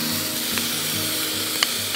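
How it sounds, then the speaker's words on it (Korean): Kimchi sizzles steadily on a grill over charcoal, a constant close crackle and hiss with faint occasional pops and no voices. "숯불에 굽는 김치는 처음입니다."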